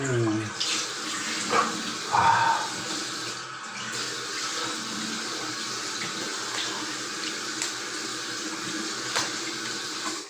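Running cold tap water splashes in a sink, with brief bursts of splashing as water hits a face, close up; a short voice sound near the start.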